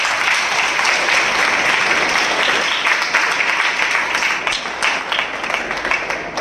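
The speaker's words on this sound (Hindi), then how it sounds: "हम जोरदार तालियों से उनका स्वागत करें।" Large church assembly audience applauding to welcome online viewers; dense, loud sustained clapping from many hands, steady throughout and easing slightly toward the end.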